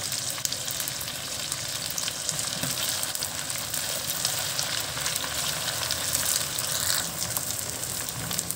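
Chicken pieces sizzle steadily in a pan with onions fried to a light golden brown for chicken tikka masala, a continuous close hiss with no speech.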